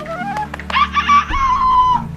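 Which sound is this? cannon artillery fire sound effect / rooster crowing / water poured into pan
rooster crowing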